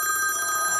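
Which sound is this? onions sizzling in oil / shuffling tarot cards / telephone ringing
telephone ringing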